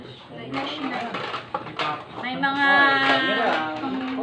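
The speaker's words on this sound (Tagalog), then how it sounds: "May mga pinggan at saka mga tasa." Ceramic plates and cups clink and knock together as household items are lifted out of a balikbayan box, steady clattering throughout under voices talking.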